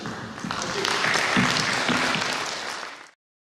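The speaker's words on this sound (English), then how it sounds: "A round of applause for him again." Applause from an audience after a speech at a Nigerian pharmaceutical manufacturers' quality improvement programme, a swell of many hands clapping for about three seconds before it cuts off abruptly.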